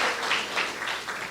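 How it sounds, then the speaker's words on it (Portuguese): A church congregation breaks into sustained applause, a dense, steady wash of many hands clapping together at fairly close range with no pauses across the short stretch. "Pode dar uma linda salva de palmas para essa palavra?"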